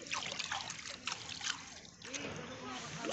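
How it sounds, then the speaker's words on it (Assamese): A hot spring in Golaghat, Assam, burbles and trickles steadily with gentle splashy water sounds, while people talk over it. "এই দেখিছে বুৰবুৰণি আহি আছে।"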